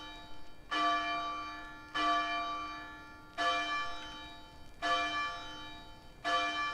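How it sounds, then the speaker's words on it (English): Repeated loud clangs of a bell in the game ARK: Scorched Earth, five strikes spaced about a second and a half apart, each ringing out with rich metallic overtones and a gradual decay, heard alone. "we have a bell."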